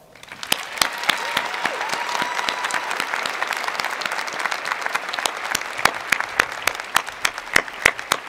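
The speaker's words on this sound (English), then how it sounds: "now we can all applaud them" University deans receive sustained applause from a commencement audience, a dense steady clatter of many hands lasting throughout with sharp individual claps standing out.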